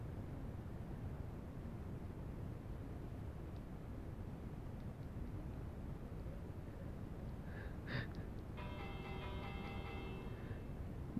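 A bell rings in the Minecraft video game, a short clear chime near the eight-second mark followed by a sustained ringing tone, all over a steady background hiss.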